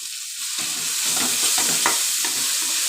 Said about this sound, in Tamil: கேரட்டும் பீன்ஸும் நல்லா வதக்கியாச்சு.